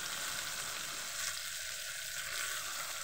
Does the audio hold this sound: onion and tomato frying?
yes